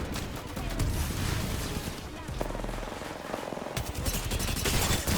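Rapid automatic gunfire in the video game Apex Legends, dense and continuous throughout, loud and close, with explosive crashes mixed in and voices talking over the shooting.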